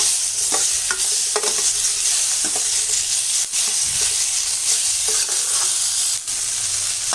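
Green chillies and tomatoes sautéing in a hot pan, a loud steady sizzle with repeated scraping and clinking strokes of a spatula stirring them, close and without any talk.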